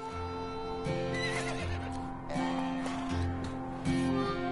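Horses in the Lego Marvel Super Heroes 2 video game whinny repeatedly over a steady background of game music, with occasional hoof clip-clops mixed in.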